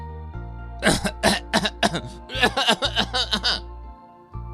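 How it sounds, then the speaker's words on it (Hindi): A man coughs hard from smoke in a rapid, harsh series of throaty bursts, loud and close, with a brief pause midway before the fit continues. "धुएं के कारण वो चोर तेज तेज खांसने लगता है।"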